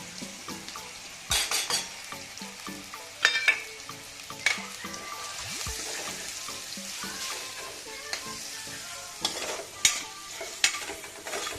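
Spinach and spices frying over a low flame for palak paneer, a soft continuous sizzle broken by sharp clinks and scrapes of a utensil stirring against the pan, close up.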